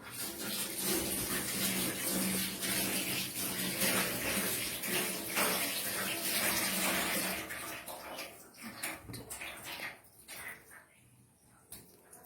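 Tap water runs steadily while hands are washed at a sink, a broad continuous splashing that cuts off partway, leaving a few quieter drips and handling noises.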